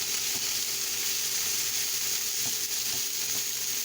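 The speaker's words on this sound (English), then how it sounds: "I'm going to kind of slide these hamburgers here and just smash down on them" Hamburger patties hiss and sizzle steadily on a hot griddle as they are pressed flat, a constant close frying crackle with a few soft scrape-like bumps and no talking.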